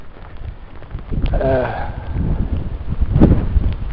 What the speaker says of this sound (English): It's very windy. Very windy here.